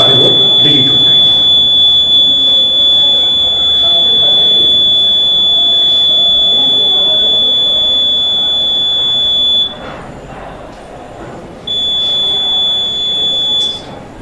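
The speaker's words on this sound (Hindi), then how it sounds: "एक लंबी बीप सी आवाज होगी और जितने भी वोट इसमें पड़े हैं वो सारे वोट डिलीट हो जाएंगे" An EVM control unit gives a long, loud, steady high-pitched beep while its stored votes are cleared. The tone cuts out briefly partway through, then resumes, over a low background hum.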